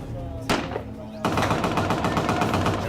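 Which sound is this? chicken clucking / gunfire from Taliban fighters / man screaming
gunfire from Taliban fighters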